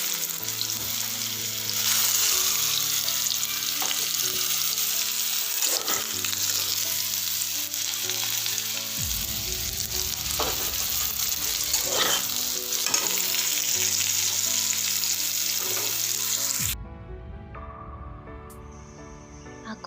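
Jackfruit and potato pieces frying in hot oil in a home kitchen, giving a steady, loud sizzle with occasional stirring scrapes, then a quieter, thinner crackle near the end.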